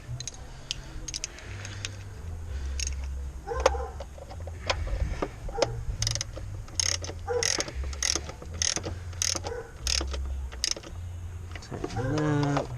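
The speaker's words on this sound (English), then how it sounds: "now that all of these are finger tight, we'll start tightening them" Ratchet tightening the ignition coil bolts on a 2012 Nissan Versa, a run of quick clicking bursts repeating steadily over a low engine-bay hum, close and moderately loud.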